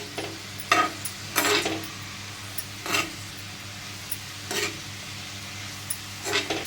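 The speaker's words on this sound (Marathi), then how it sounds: "छान असं हलवून घेऊया." Valpapdi beans are stirred in a pan with a spatula, giving several separate scraping strokes over a faint sizzle, close and fairly loud, with no talk.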